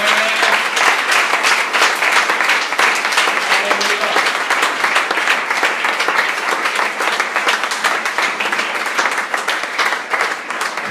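Sustained loud applause from a church congregation at a French-language worship service, dense clapping running steadily through the whole stretch with no pause.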